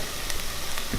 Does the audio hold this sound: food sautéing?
yes